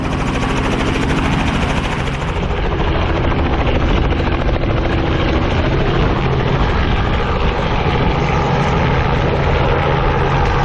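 A four-seat helicopter loaded with passengers runs close and loud, its engine whine and rotor thrum forming a steady unbroken roar.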